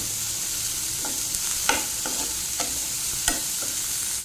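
Onions frying in a pan give a steady, close sizzle, with a handful of sharp scrapes and knocks as they are stirred at irregular intervals.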